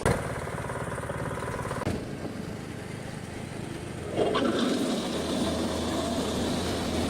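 A Craftsman T110 gas riding lawn mower with a 17 hp engine runs at a steady, close idle, its drone rising a little louder and fuller about four seconds in and holding there.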